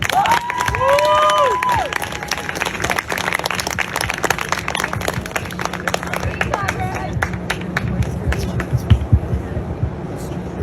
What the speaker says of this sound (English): Please now give a round of applause for Rabbi Dovid Feldman and Rabbi Joseph Hoshhausen.